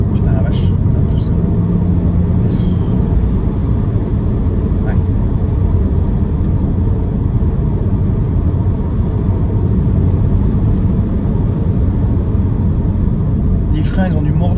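Volvo V60 T8 plug-in hybrid estate with 400 hp accelerating hard, a steady loud engine and road roar filling the cabin with a voice speaking over it.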